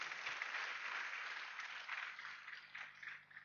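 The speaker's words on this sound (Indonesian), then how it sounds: "mohon aplaus untuk Ibu Diana Setiawati Bapak Ibu" An audience at a business seminar applauds with a dense, even wash of clapping that stays steady and then thins slightly toward the end, fairly quiet and distant.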